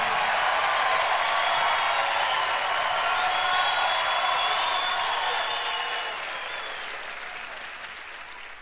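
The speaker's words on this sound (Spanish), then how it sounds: "Un aplauso para Ray, por favor" A live worship concert crowd gives sustained applause for Ray, a dense roar of clapping that stays loud at first and then gradually thins and fades toward the end.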